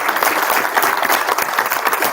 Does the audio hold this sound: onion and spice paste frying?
no